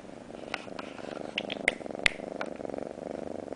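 Close-up cat purring, a steady low rumbling pulse with a few small clicks and rustles over it, quiet and continuous.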